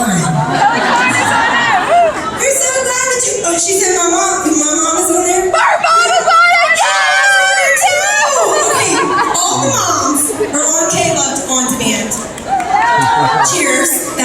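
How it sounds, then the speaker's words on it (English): A concert crowd screams, whoops and cheers loudly and continuously for several seconds, a dense roar of voices filling the room. "4 people scream because that's the people online"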